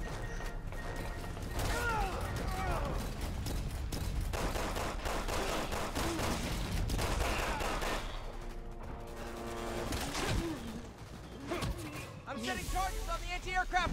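Rapid bursts of gunfire in the Resident Evil 6 video game, shots aimed at the ground, crackling in dense clusters amid mechanical game effects throughout.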